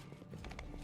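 Horse hooves clip-clop in the fantasy role-playing game Pathfinder: Wrath of the Righteous, a short run of soft, evenly spaced hoofbeats close by over a low game ambience.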